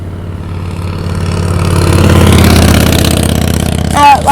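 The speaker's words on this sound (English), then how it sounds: "So here goes the motorcycle." A motorcycle passes on a road, its engine swelling from a low drone to a loud peak and then easing off, with a brief voice near the end.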